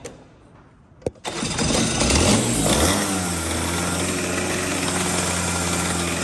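A Rotax Max racing kart engine fires up with a sharp pop and climbs to a loud wide-open rev near 5,000 RPM, holding a steady raspy two-stroke drone close by, with no talking.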